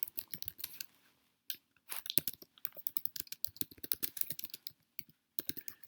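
Crisp keyboard clicks come in uneven bursts with short silent gaps as a description is typed on a computer, close and alone.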